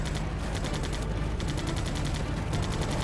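Aircraft guns chatter in rapid, evenly pulsed bursts during a dogfight in the Air Combat video game. The sustained firing is loud and dense, with short breaks between volleys, and no voices are heard.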